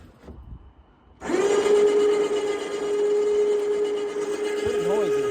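An electric winch motor on a truck starts up after a short quiet moment and runs with a loud, steady whine and grinding mechanical hum, pulling in continuously and changing slightly in tone near the end.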